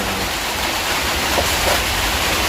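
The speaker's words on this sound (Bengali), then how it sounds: "বৃষ্টি হচ্ছে" Steady rain pours down on a mud-walled house in a pre-monsoon storm, a dense continuous wash of hiss and patter with no pauses, fairly close and loud, no voices.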